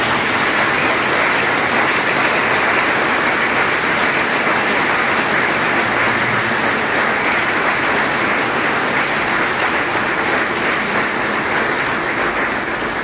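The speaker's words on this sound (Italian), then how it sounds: "E faccio un applauso." A church congregation applauds continuously for the whole stretch, a dense, even wash of many hands with no pauses.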